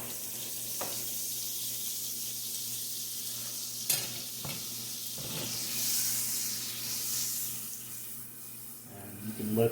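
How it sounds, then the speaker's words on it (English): A pat of butter sizzles in a hot pan heated just above medium for an omelette, a steady close hiss broken by a few clinks and scrapes, with the sizzle swelling louder toward the end. "Drop a little pat of butter."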